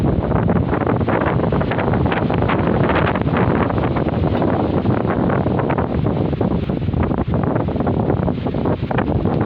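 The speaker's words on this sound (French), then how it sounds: "je pense qu'on doit entendre fortement le vent" Strong, steady wind roars and buffets continuously, loud and blustery, with no voices.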